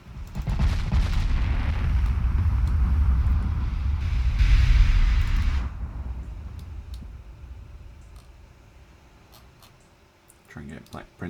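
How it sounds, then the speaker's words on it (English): Heavy naval gunfire from warship turrets, including the battlecruiser Black Prince, in the Ultimate Admiral Dreadnoughts game: a loud, sustained low rumble of booming salvos that fades away, with a few sharp reports near the end and talk over it. "Try and get Black Prince firing all their turrets as well."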